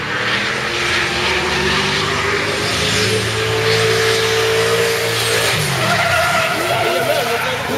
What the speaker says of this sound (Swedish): Den går rätt bra den där motorn, fast den är en sugmotor vi har.